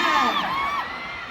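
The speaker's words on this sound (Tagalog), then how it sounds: "Nakasan yung mga palakpak at hiyaw" At a Lee Min-ho fan meet in Manila's MOA Arena, a large audience shrieks and cheers in a brief loud burst of high-pitched screams that fades quickly.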